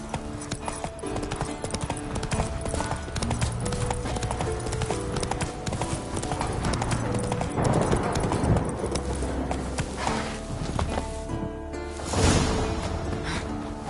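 Scorpion, a purebred Kedwenny warhorse in The Witcher 3 Next Gen, gallops with a rapid, steady clip-clop of hooves that stays close and continuous, set against a low sustained musical backdrop.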